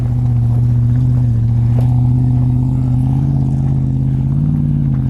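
A Toyota V8 engine on TOYO RT Trail tires drones loud and close as the vehicle climbs a snowy hill, a deep steady rumble with slight rises in revs throughout.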